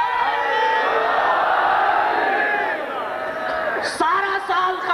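A packed Chehlum Imam Hussain majlis congregation at Ganta Ghar, Sukkur, shouts a slogan response in unison, a loud, dense roar of many voices held for several seconds before easing into a thinner, scattered crowd murmur.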